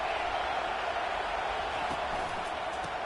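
A steady, dense roar from a football stadium crowd, loud and continuous throughout as fans cheer to keep the opposing team pinned deep in their own end, with no distinct voices standing out.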